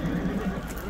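A horse whinnies amid the murmur of a busy horse market in Sokuluk, Chüy, with a short wavering neigh standing out over crowd noise and faint background talk.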